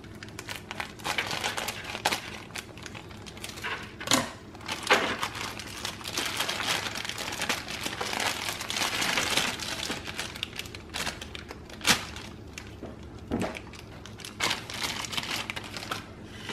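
A Krusteaz crust mix package is cut open, giving a continuous near crinkling and rustling of the packaging, broken by a few sharper snips and crackles.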